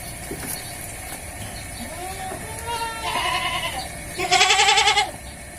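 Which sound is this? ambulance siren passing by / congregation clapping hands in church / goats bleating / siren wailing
goats bleating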